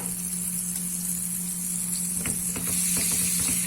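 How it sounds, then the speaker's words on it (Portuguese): Butter sizzles steadily in a non-stick frying pan as vegetables fry, with a constant bright crackle, a low hum beneath, and a few clinks and scrapes toward the end. "aqui eu tô derretendo a manteiga de leite, frigideira antiaderente"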